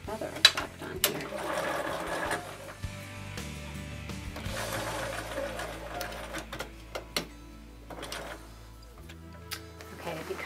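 Sewing machine stitching embellishment onto a girl's dress, a steady rapid mechanical whir in bursts with ticking and clacking, close up and fairly loud throughout.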